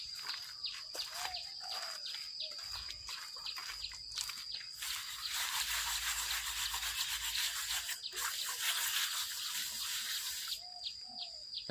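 A rubber-gloved hand rubs sticky wet cement paste over a bare concrete planter pot, making a steady, scratchy rubbing sound throughout, with birds chirping nearby.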